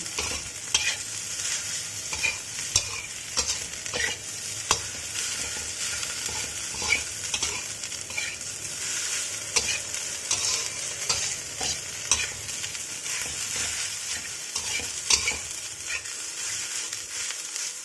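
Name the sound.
stirring fried rice with salted fish and oyster sauce in a pan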